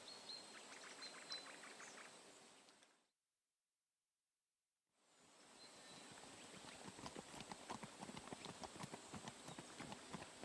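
Horse hooves clip-clop at a steady walking rhythm in a fantasy bandit setting, fading out into a couple of seconds of silence and then returning with a clearer, slightly louder beat.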